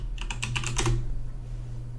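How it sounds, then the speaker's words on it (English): Rapid burst of clicks on a new computer keyboard, about a dozen close keystrokes over one second, then only a low steady hum. "this new keyboard makes you type like a goddamn idiot."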